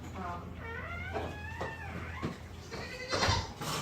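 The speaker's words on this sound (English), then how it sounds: "Oh, the goat." A pet goat bleats repeatedly nearby on a farm, several wavering, nasal calls in a row over low background noise outdoors, with no talk over the cries.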